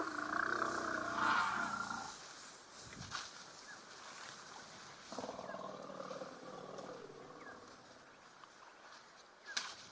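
Elephants give faint, distant low rumbles and roar-like calls against a quiet outdoor background.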